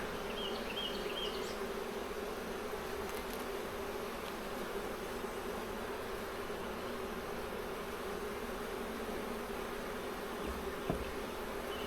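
Honeybees buzz steadily during an open hive inspection in July, a dense, continuous drone of many insects close by that holds level throughout, with no talking.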